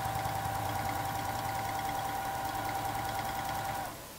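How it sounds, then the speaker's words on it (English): Home sewing machine stitching a quilt, stitching in the ditch: a steady, fast mechanical whir with a rapid needle-beat runs continuously for about four seconds, then eases off at the end. "I'm gonna just kind of stitch in the ditch, going back and forth to get to that area."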